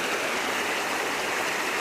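A creek flowing beside a willow-lined crevice on a caribou hunt, heard as a steady, close broadband rush of water with even texture throughout and no voices.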